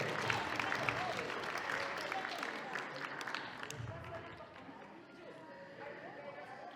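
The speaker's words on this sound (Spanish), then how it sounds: "Vamos a recibirle con los aplausos" Wedding guests applaud the groom, a crowd's scattered clapping that is strongest at first and then thins out, with voices and chatter running underneath.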